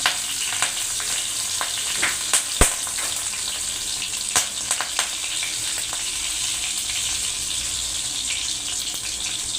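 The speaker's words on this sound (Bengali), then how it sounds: "আমি কাঁচা লঙ্কাই দিয়ে দিচ্ছি আর সঙ্গে দিয়ে দিচ্ছি তেজপাতা" Green chillies and bay leaves fry in oil for a Bengali village-style vegetable curry, a steady close hiss and crackle with scattered sharp pops and a few clinks, with no voices.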